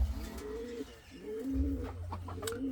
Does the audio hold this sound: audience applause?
no